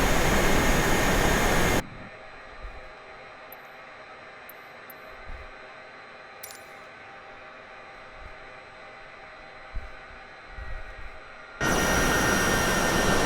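A simulated military aircraft taxis at an air force base in Microsoft Flight Simulator 2020, with a loud steady jet roar at the start and end and a much quieter engine hum between, broken by a few small clicks.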